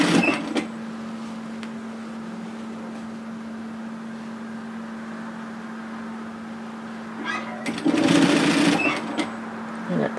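Sewing machine stitching across fabric pleats, a steady low motor hum throughout with a louder burst of fast needle chatter near the end.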